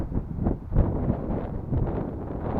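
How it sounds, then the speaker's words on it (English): Wind gusting hard across the microphone outdoors while a scratch-built model plane flies, a rough, loud, buffeting rumble that swells and eases in uneven surges. "Whoa, caught some wind there."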